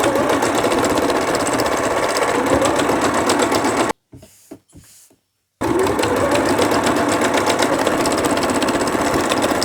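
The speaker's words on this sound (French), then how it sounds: "Je vais piquer donc à 2 mm tout le tour de ma parmenture." A sewing machine topstitches 2 mm around a lilac facing on a baby's beach poncho, running steadily and loud up close, breaking off briefly for a couple of soft clicks, then resuming its continuous whir.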